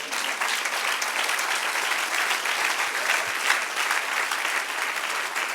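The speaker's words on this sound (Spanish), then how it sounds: "Denle un aplauso al Señor." A church congregation applauding together, steady sustained clapping from many hands filling the room at an even volume throughout, with no voices over it.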